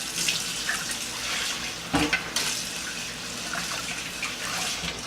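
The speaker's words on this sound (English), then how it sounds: "Again, you can see the water's beating up and running right off of it." Tap water runs steadily over a pan lid being washed clean after cooking grilled cheese, a continuous splashing hiss with a brief louder spatter midway.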